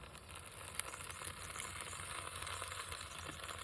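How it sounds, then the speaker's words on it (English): Food sizzling in a pan while cooking outdoors at a solar-powered camp setup with an off-road trailer, a steady, even crackle and hiss holding at moderate volume throughout, with no talking. "They're starting to sizzle."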